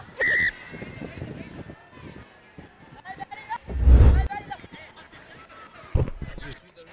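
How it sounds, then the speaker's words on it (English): At a schools rugby league match between Zahira College and D.S. Senanayake College, the referee gives one short, sharp whistle blast near the start, followed by a commentator talking over ambient crowd noise. "referee blows the whistle"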